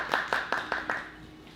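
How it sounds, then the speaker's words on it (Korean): Welcoming applause from a small audience at a talk concert in an independent comic bookstore, about five distinct, evenly spaced claps close by, fading out quickly. "환영의 박수를 좀 부탁드립니다"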